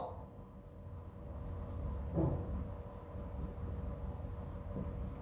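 A pen writes geometry coordinates by hand, giving faint, continuous scratching strokes over a low background hum.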